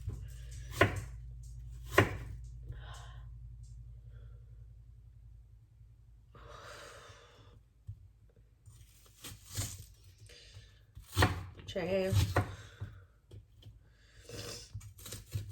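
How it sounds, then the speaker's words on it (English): A knife chops an onion on a cutting board in a home kitchen, with a few sparse, separated chops and soft tearing sounds, broken by quiet breathing and sighs. "I'm finally cutting this onion, and I hope I don't start crying."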